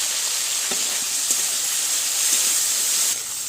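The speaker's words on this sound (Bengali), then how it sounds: "তেল দিয়ে দিয়েছি, মাছটা দিয়ে দিচ্ছি।" Fish coated in salt and turmeric sizzles steadily in hot oil, a dense continuous frying hiss at close range with a few faint clinks, no voices over it.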